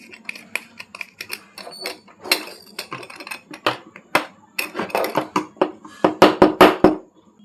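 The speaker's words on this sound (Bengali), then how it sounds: "এটা আমি এই পার্পেলটা ঢেলে দেখাচ্ছি" Small purple paper shapes pour out onto a surface in a burst of close, dry clicks and taps, irregular at first and then clustering into a rapid rattling run near the end.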